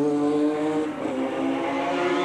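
A 1990 Formula Holden open-wheel race car at Mallala passes close by with a loud, steady engine drone whose pitch drops as it goes by, sustained throughout with no talk.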